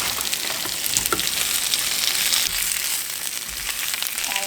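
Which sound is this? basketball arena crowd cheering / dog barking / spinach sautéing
spinach sautéing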